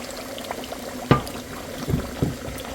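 Soaked garlic and its liquid poured into a cooking pot of meat, a short splash and gurgle followed by a couple of softer sloshes over a low bubbling background.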